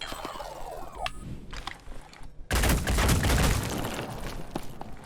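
Gunfire in the video game Phoenix Point erupts as a sudden dense burst of rapid shots midway through, following softer scattered game effects, loud and sustained in a rattling volley.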